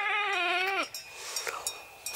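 A mother goat on a coastal walk gives one loud, close, wavering bleat lasting almost a second, followed by faint rustling and scattered small knocks.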